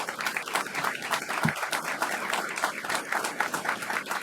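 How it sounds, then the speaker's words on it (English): An audience claps steadily, a dense patter of applause that keeps going throughout at moderate volume. "So give the councilman a big hand."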